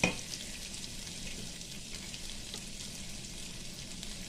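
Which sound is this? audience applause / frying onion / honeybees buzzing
frying onion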